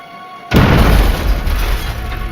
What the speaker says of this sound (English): The explosion seriously injured the assistant